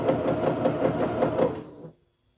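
Sewing machine stitching at a steady pace under foot-pedal speed control, a dense rhythmic whir of needle strokes that runs loud and close for about two seconds, then stops abruptly into silence.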